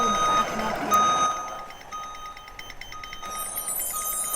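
A Thomas HDX2 school bus in New Jersey spec sounds steady reversing beeps while backing up, a repeated high tone that is clear at first, pauses briefly, then resumes more faintly against the cabin hum.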